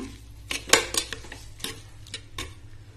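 Greens being stirred in a clay pot, pullachakeerai cooking with a spoon scraping and clinking against the earthenware in a few scattered strokes, fairly quiet and close with no talking.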